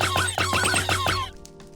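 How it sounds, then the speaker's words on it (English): A custom taser shot in the Minecraft video game, built from layered dying-animal sounds: a dense, buzzy electric crackle with rapid pulsing, loud and close, lasting about a second and a quarter before cutting off into a faint tail. "makes the taser sound like this when you shoot it"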